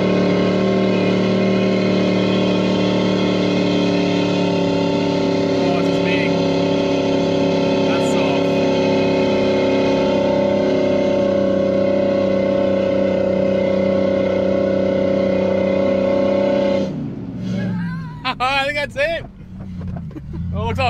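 A 4WD vehicle's engine labours up a soft sand dune at the Yeagarup dune beach exit near Denmark, Western Australia. It drones loudly as a steady, sustained hum, then cuts away as voices take over near the end.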